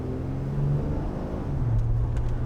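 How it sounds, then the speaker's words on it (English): A car engine running low on fuel idles with a low, steady rumble, its pitch shifting slightly and running a little unevenly throughout. "I can tell my car don't have no gas in it just the way it sounds"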